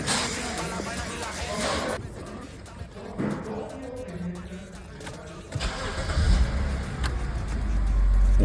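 A BMW E90 328i with 230,000 km, fresh from a DIY transmission oil change, cranks and fires. The engine catches and settles into a steady idle that grows louder toward the end, with a voice speaking briefly early on.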